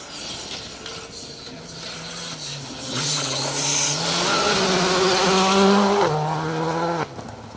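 A rally car on a Trackrod Rally stage in the BTRDA Rally Series approaches and passes at speed, engine revving and shifting through gears, loud and buzzing, then cutting off abruptly near the end.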